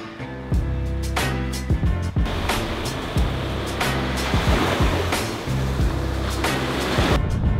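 Surf washes continuously onto a Hawaii beach at sunrise, a loud, steady roar of breaking waves with rushing foam and no voices.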